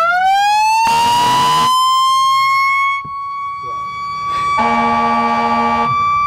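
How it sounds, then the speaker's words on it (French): A loud, close fire truck siren wails steadily, with two blasts of a harsh horn breaking in, then the siren continues rising and sustained. "maintenant, on va partir de la sirène du camion"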